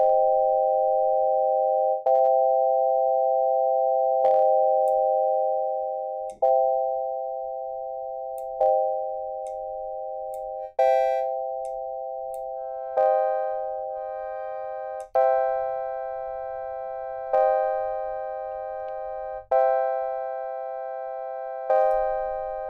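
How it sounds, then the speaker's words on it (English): Pure sine-wave oscillator tone from a synthesizer, held as steady notes that restart about every two seconds with soft clicks, loud and close with no voices. "let's see if I can grab something more pure, like a pure sine wave oscillator"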